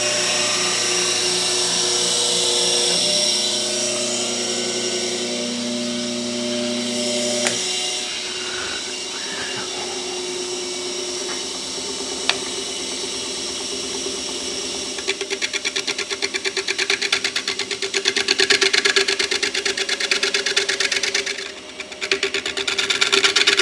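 Sanding a wooden bowl spinning on a lathe, with a steady motor whine that shifts partway through into a rougher, louder abrasive rasp, all close and continuous with no talking.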